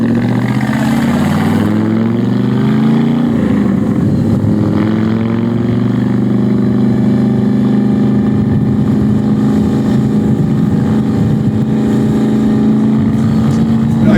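A '51 Ford coupe drives along steadily with its engine droning loud and close, while a sustained gear whine rises and holds over the constant road rumble.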